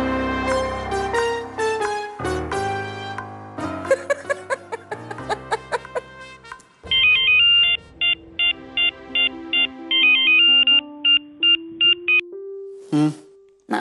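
A mobile phone rings with an incoming call on a Marathi TV serial, playing a bright melodic tune followed by a run of short repeated electronic beeps, clear and prominent with no talking.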